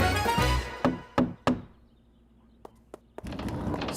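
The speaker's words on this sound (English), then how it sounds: "Sorry I had to knock with my boot" Three heavy knocks on a door with a boot, loud and spaced about a third of a second apart, followed by a quiet pause with a few faint taps and a rising rustle of room noise.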